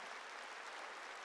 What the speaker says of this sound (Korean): 깨닫는 자만 박수 치라고